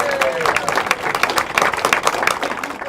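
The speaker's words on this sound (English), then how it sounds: "Can we have one more round of applause for you for all the acts you saw this evening?" Studio audience at a comedy show applauding, lively uneven clapping with sharp individual claps standing out and a faint voice at the very start.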